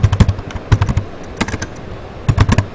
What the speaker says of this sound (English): you have to go into the uncompressed kernel folder and you have to type a command